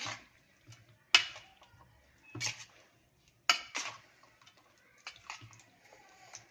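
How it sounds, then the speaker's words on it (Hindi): Spoon stirring chana chaat with chilli and spices in a bowl, giving a few sharp clinks and scrapes against the bowl in separate bursts, with quiet gaps between them and no talking. "अब इसको हम अच्छे से मिक्स करेंगे इस तरीके से।"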